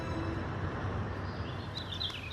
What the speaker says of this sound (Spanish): Es un barrio muy tranquilo, se escuchan hasta los pájaros.